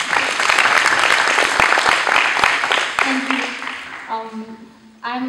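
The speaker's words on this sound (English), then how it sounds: "Round of applause for Malvika." Applause from an audience at a youth parliament event greets a speaker, a dense wash of many hands with a few louder claps, fading as a voice begins talking over the tail.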